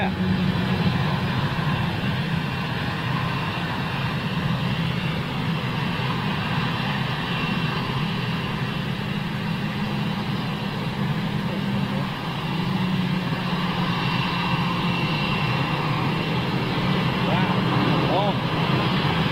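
An Airbus A320neo jet on a long takeoff roll makes a steady, broad engine roar heard from a distance, constant and unbroken for the whole stretch, with voices chatting over it.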